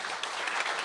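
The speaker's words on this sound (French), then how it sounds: "Applaudissons-le, s'il vous plaît." A church congregation breaks into brisk applause, many hands clapping densely together in a short burst that fills the room.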